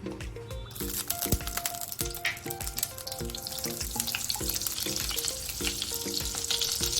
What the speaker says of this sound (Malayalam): ഒരു പാൻ ചൂടാക്കി ഓയിൽ ഒഴിച്ച് കുറച്ച് ബട്ടറും ചേർക്കാം.